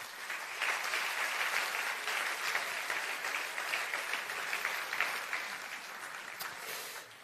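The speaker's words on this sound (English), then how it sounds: "I think that deserves another round of applause." Sustained audience applause fills a conference hall at the Bled Strategic Forum, a dense, steady wash of many hands clapping with no voices over it.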